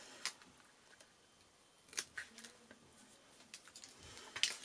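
Scissors snip through glue-coated craft paper in a few sharp, separate cuts with soft rustling between them, close and fairly quiet.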